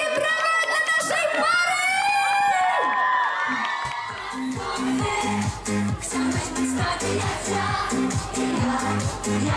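A festival crowd at a student juwenalia cheers and shouts for a couple, loud whoops and voices over music, before a thumping rhythmic beat takes over with the crowd still audible.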